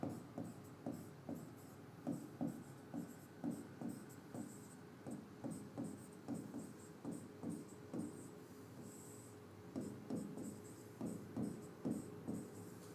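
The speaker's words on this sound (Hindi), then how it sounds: "अब देखो मैं इसको कैसे लिखता हूं" Chalk or marker writing on a board during a power systems lecture: steady rhythmic bursts of short strokes and taps, close and clear, continuing for the whole stretch with no talk over it.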